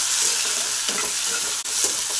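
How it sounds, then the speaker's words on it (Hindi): Tomatoes fry in a pan with a loud, steady, hissing sizzle that runs continuously, with one brief dip near the end. "अब इमा डालूँ टमाटर, और ला थोड़ा भून लेता हूँ"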